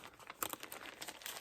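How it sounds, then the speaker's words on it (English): Faint, close crinkling of plastic bags and zipper rustles comes in small irregular bursts during cross-stitch handling, with no talking. "I apologize for the rustling of the bags and the zippers"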